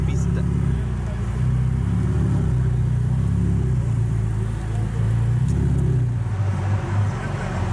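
A Ferrari 488 Pista at a Ferrari Portofino launch event for customers gives a loud, close engine rumble with rising and falling revs throughout, while people talk nearby.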